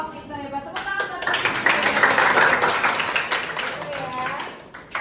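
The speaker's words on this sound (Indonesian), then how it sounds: "Tepuk tangan buat" Children in a classroom clap together in a rhythmic burst that swells in the middle and fades, with a teacher's voice speaking over and around the clapping.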